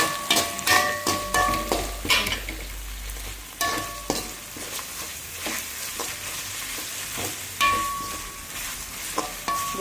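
Curry leaves and pandan leaves fry in a pan for a home-style mutton curry, a steady crackling sizzle with repeated scraping stir strokes and occasional metallic clinks, close and prominent, no talking.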